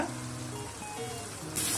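Goat brain gravy boils and sizzles steadily in a pan at close range, a soft continuous frying hiss with a brighter burst near the end.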